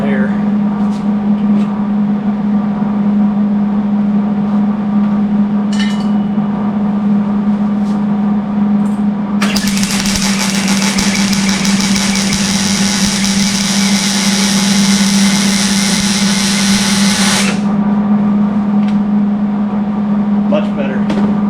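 A MIG welder lays a bead on a steel shop sign, an even, loud crackling hiss that runs for about eight seconds mid-clip over a constant machine hum, with a person talking before and after.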